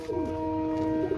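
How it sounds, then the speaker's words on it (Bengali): Male Oman teddy pigeons give a brief, close, low cooing call with a steady, clear tone, heard alone in a short burst. "এখানে দুটোই হচ্ছে ওমান টেডি নর। আপনারা দেখেন ভিউয়ার্স, স্ট্যান্ডিংগুলো লক্ষ্য করবেন, অনেক সুন্দর কবুতর।"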